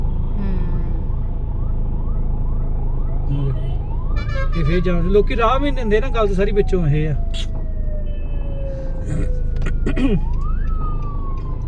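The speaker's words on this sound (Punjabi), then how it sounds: "ਹੁਣ ਦੇਖੋ ਵਿਚਾਰੀ ਉੱਥੇ ਸੈਰਨ ਮਾਰੀ ਜਾਂਦੀ" A loud wailing ambulance siren rises and falls close by as it sits stuck in a traffic jam, amid traffic noise and engine rumble, with someone speaking over it.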